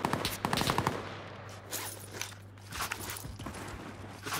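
Rapid bursts of automatic gunfire crackle from a gun in a shooter video game, loud at the start and then giving way to scattered shots, footsteps and a low steady hum.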